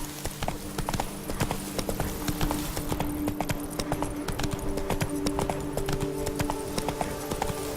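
Roach's hooves clip-clop in The Witcher 3 in a quick, even rhythm that runs for several seconds, loud and close over a low game soundscape with faint background tones.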